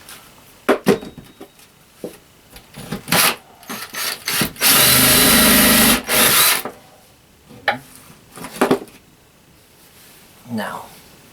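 A power drill bores through a tiny-home wall, packed with rock wool, during a composting toilet install: a long sustained grinding burst in the middle, with shorter rubbing and tool knocks around it and talk in between.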